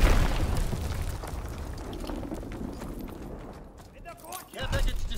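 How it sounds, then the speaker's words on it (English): A bomb detonates with a loud boom in a WWII video game, its rumble trailing off into a brief lull before another low blast swells near the end, with game voice audio mixed in. "Enemy bomb incoming. Get to cover."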